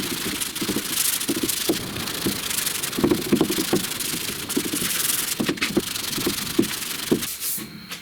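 Block sanding a skim coat of filler on a truck cab corner during deep dent repair, with steady rhythmic back-and-forth rubbing strokes, close and fairly loud, continuing throughout without talk.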